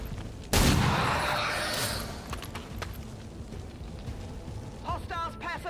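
A sniper's pistol shot fired in XCOM 2, a single loud sharp crack with a reverberant tail that fades over a second or so, followed by faint rumbling game ambience and a brief burst of speech near the end.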